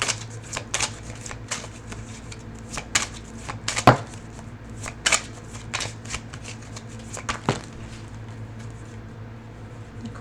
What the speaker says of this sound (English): The cards are going everywhere.